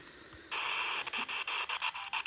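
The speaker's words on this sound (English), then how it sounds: "we're going to try and use the white noise that it generates" A radio scanning through channels as a spirit box in the kitchen of Gloucester Prison, throwing out loud bursts of white-noise static that chop on and off rapidly after a brief quiet start.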